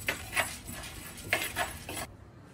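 Roasted gram being dry-roasted in a hot clay pot with a spoon, giving several soft scraping, clinking stirs near the mic with brief pauses between, and no voice.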